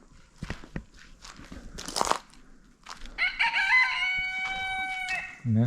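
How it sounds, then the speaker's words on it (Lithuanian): Chickens scratching and clucking in short bursts in a Moldovan village yard, then a rooster crows clearly and loudly for about two seconds nearby. "Čia vištų daug, tai čia kažkas gyvena."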